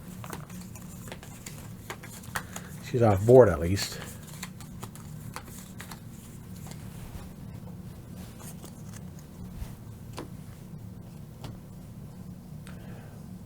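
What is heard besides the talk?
shuffling a deck of game cards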